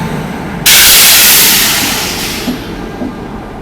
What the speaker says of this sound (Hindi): और यहाँ आ गई मेरी गरीब रथ एक्सप्रेस।